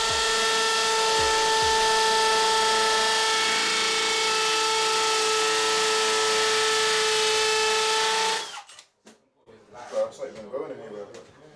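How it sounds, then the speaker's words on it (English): A power drill whines steadily at close range for several seconds while drilling holes for wall plugs during a small galley kitchen installation, then stops abruptly, followed by faint clattering and handling noises. "then we can drill those two holes in and put some plugs and screws"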